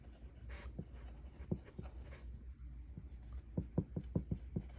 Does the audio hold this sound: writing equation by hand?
yes